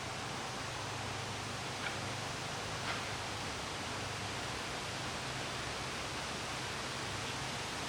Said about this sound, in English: Can you hear the wind going through the leaves?